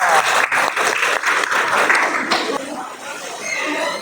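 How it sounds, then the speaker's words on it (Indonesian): An audience claps loudly and steadily after a group presentation at a classroom teaching assessment, a dense wash of applause that tapers slightly toward the end. "Berikan tepuk tangannya."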